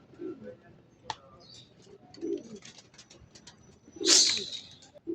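Soft, low cooing of domestic pigeons repeats a few times outdoors, with one louder burst of wing flutter and a sharp chirp midway.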